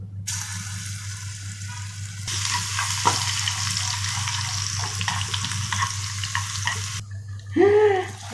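Cumin and pepper sizzling in hot ghee for a tasha over macaroni-stuffed cabbage, a steady close frying crackle with a brief stir and a sharp burst of sizzle near the end.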